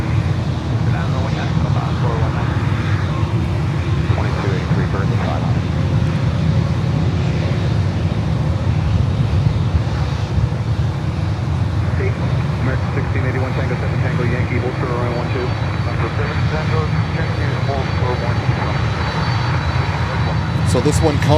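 Jet airliner engines, including a Cathay Pacific 747-8, roar steadily at Miami airport, a loud continuous drone with shifting tones throughout, while someone talks over it.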